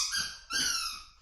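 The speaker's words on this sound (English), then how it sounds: "Blue's going to squeak his toy." A dog squeezes a squeaky toy indoors, giving two quick high-pitched squeaks in close succession, near and fairly loud.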